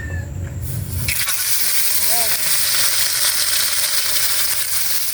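Steady, loud sizzling of galunggong fish frying in hot oil fills the whole stretch, a dense crackling hiss that kicks in after a brief quieter start.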